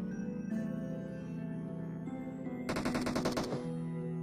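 Rapid automatic gunfire from PUBG Mobile's zombie mode, a dense burst of shots rattling over a steady game-sound bed, with no talk in between.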